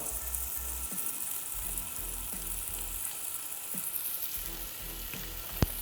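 A steak sears in a pan, giving a steady, close sizzle and crackle with a low hum underneath and one sharp click near the end, no voices.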